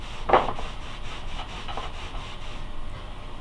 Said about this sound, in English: I'm just buffing to get the last of the petroleum jelly off